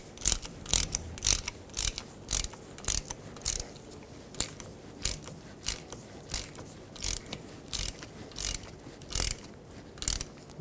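A ratchet tightens the bolts on a 2009-2011 Ford F-150 rear differential cover, giving close, crisp bursts of clicking in a steady repeating rhythm with short pauses between strokes.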